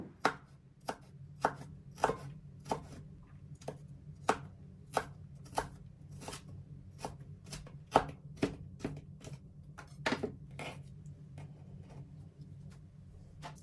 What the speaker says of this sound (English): First, let's chop some ginger